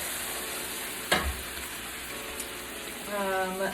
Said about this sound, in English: I'm gonna add the first cup in, and it's probably gonna bubble pretty hardcore